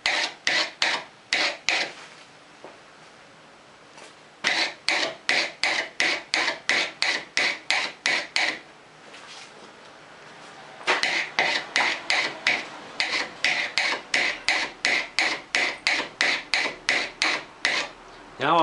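Burnishing the edge of a homemade card scraper: sharp, rhythmic rasping strokes in quick bursts of about a dozen each, separated by short pauses, close and fairly loud with no talking.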